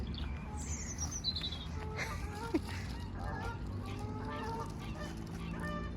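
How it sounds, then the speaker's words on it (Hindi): Ducks being fed quack and honk in a busy cluster of calls close by, with a brief louder squawk partway through and no talk. "ये देखें जी, रबाब फेंक रही है अब डक्स को।"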